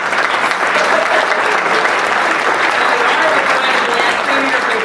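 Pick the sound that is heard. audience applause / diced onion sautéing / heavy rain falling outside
audience applause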